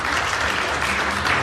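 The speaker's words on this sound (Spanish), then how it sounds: "Un aplauso al Señor." A church congregation applauds together after a prayer, a dense, continuous wash of clapping that runs at a steady level, close and full, with no speech over it.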